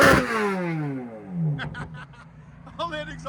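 Straight-piped 5.5L V8 in a 2023 Chevy Corvette Z06 revving, a loud rev sweeping down then settling into a rough idle, with bursts of talk near the end.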